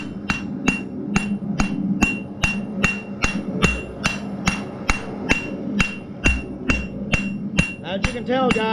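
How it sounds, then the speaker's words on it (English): Steady, evenly spaced hammer blows ring on hot metal being forged into a meat turner, about two strikes per second, loud and close with a metallic clang over a low hum. "As you can tell, guys, I'm really not moving the hammer a lot, moving the metal back to me."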